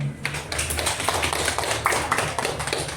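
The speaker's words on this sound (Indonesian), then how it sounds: "Tepuk tangan untuk kelompok 1." A classroom of students claps for group 1 during a lesson, a dense run of quick hand claps that holds steady and fairly loud throughout.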